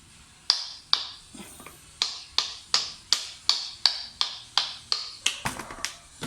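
Hammer blows knocking a part loose on an engine during a camshaft swap to a 276 Estas cam, about a dozen sharp metallic strikes in a steady rhythm, close and loud, with no talk.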